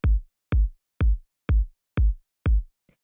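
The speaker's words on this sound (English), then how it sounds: "you want kind of a more like analog drum machine style kick" Six deep, punchy analog drum machine style kick drum hits land at a steady, even pace, each a booming thump with a short decay, followed by a faint tick.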